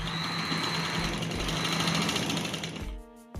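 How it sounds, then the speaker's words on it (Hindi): An electric sewing machine stitches a V-neck collar, running in a dense, steady mechanical whir for nearly three seconds before stopping abruptly, followed by a brief quieter mechanical tail. "चलिए सिलाई लगाते हैं।"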